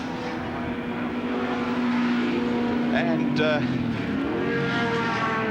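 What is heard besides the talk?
Group A touring cars racing at Winton circuit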